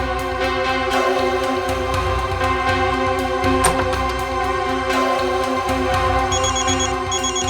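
A phone ringtone plays continuously in a loud, repeating electronic melody with steady tonal beeps, no voices over it.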